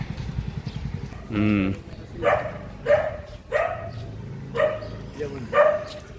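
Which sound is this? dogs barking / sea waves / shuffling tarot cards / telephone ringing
dogs barking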